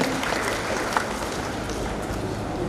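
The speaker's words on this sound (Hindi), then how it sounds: "जोरदार तालियां बजाकर आप स्वागत को अभिनंदन करें।" Dense, steady applause from a large crowd at a public gathering in Udaipur district, India, fills the whole stretch, loud and even without a break.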